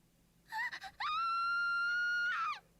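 A long, high-pitched sustained scream from Mayuri, a character in the video game Steins;Gate 0, comes after a few short wavering cries and holds steady for about a second and a half before trailing off, loud and alone.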